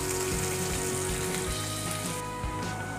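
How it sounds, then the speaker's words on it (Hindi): Cumin, bay leaves, green chili and ginger fry in oil, making a steady, close crackling sizzle that runs throughout at moderate volume. "जीरा हमारा भुन रहा तो दो तेज पत्ते भी डाल देते हैं और हरी मिर्च और"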